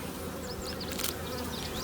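Honey bees swarm around their hives in a dense, steady buzz close up, with individual insects whining past as they fly near, and no voices.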